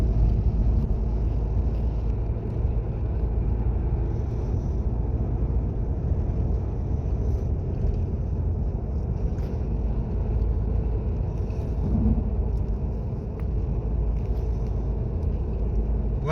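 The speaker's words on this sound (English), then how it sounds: "So now I'm going to take the car to a road test drive." A 2015 VW Passat 2.0 TDI common-rail diesel on a road test drive: steady, continuous low road and engine rumble from inside the car, holding a constant level throughout with no talk.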